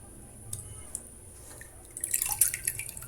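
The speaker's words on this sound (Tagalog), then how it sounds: "kumukulo na mga sis" A pot of water boils before bihon noodles go in, with quiet bubbling and soft popping that turns busier and louder near the end.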